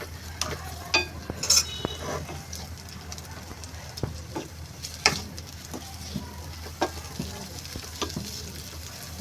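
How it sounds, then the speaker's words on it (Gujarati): Crushed ginger roasts in ghee with a soft continuous sizzle, broken by repeated scraping strokes of a spoon stirring through the pan, fairly close. "આ રીતે આપણે એને ઘીમાં શેકવાનું છે"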